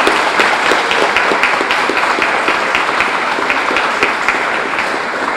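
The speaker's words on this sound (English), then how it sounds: "a round of applause for Councilor Julie Kuda." Loud, close audience applause fills a mayor's ceremony honoring a New Bedford city councilor, with many hands clapping in a steady, unbroken roar.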